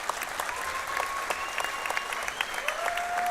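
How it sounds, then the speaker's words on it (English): Applause from the crowd at a boxing event, given in memory of a late person, with distinct individual claps over a steady bed and a faint whistle-like tone drifting through. "would like to give him a round of applause,"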